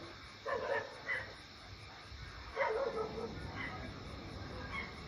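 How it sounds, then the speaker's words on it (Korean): A dog barks somewhere outside on a quiet, dark evening. Two short clusters of faint, distant barks rise over a soft background hiss, with calm stretches between them. "개 짖는 소리"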